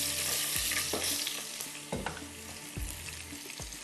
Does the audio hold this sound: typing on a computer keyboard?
no